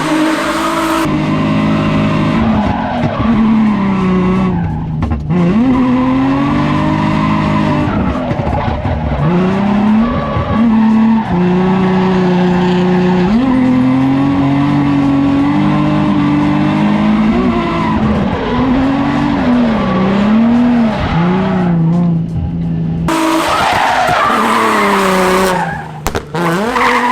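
A Nissan 350Z spins its tires to warm them, with the engine revving hard and wavering while the tires squeal loudly and continuously for nearly half a minute, with no talking.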